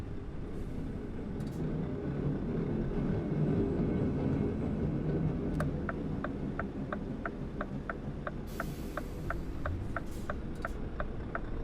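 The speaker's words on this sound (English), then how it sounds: "Got to share the road with the trolley cars." Trams roll past on a city street in Euro Truck Simulator 2, a steady low rumble of traffic with a regular ticking clatter of wheels and rail joints running through the second half.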